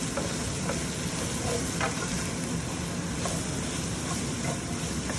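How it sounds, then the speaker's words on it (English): Mushrooms sizzle loudly in olive oil and butter in a pan for chicken Marsala while being stirred, a dense, continuous frying hiss with scattered scrapes and clicks from the utensil. "so we're gonna stir these up a little bit here"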